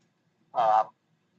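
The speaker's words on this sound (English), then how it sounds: "you can hear the boats, you can hear the birds." A single loud, close goose honk, one short nasal call standing alone against near silence.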